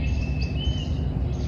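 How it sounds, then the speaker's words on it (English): Thin, high bird calls drift over a steady low outdoor rumble, faint and distant, on a morning at Fumee Lake Natural Area in Michigan's Upper Peninsula. "I hear birds everywhere."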